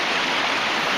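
Creek water rushing steadily over bedrock, a dense, loud and continuous flowing hiss up close with no voices.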